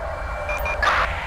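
Warbling electronic ambulance siren on the Great Ocean Highway in GTA V with the LSPDFR mod, a short rising and falling wail close by over a steady low rumble, with no voices.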